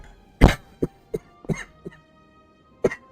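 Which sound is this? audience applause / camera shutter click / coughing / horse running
coughing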